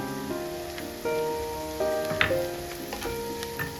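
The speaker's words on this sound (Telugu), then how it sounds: "మెంతాకు కూడా బాగా వేయించుకోవాలి ఆనియన్స్తో పాటు" Onions and fenugreek leaves frying together in a pan for a mutton keema dish give off a steady, close crackling sizzle with soft stirring clatter, and no one speaks over it.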